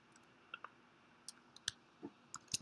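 Faint, sparse computer mouse clicks, single sharp ticks spaced irregularly against quiet room hiss.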